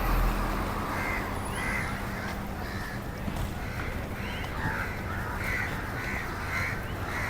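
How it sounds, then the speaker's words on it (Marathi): Crows caw repeatedly at a distance over a constant roar of background noise, the calls coming in irregular bursts. "आता तुम्हाला पक्ष्यांचे आवाज ऐकायला येत असतील"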